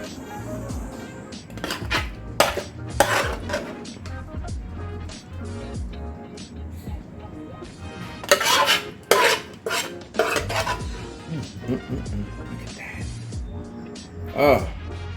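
Chicken and vegetable stir fry is plated with utensils, with scattered clinks and scrapes of metal on dishes and pans, some sharp and loud, mixed with light shuffling at close range while a person talks now and then.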